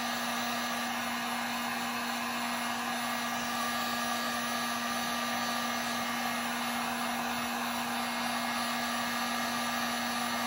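Heat gun blowing steadily to reheat a bent acrylic rod for a scale model, a constant close airy roar with a fixed hum, running unchanged throughout.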